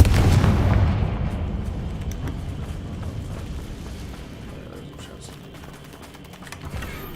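A Confringo fire spell bursts in Hogwarts Legacy, a loud booming blast at the start that rolls into a long rumbling decay, with smaller crackling impacts trailing after.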